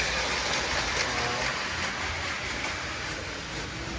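A continuous mechanical running hum and rattle of a roughly 100-year-old toy electric train moving along track under command control, steady and close, with no talking.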